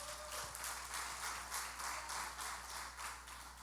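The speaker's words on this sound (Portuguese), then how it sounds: "Dá uma salva de palmas a Jesus bem forte" Church congregation clapping for Jesus, a steady wash of applause carried at moderate distance, with a low constant hum running beneath it throughout.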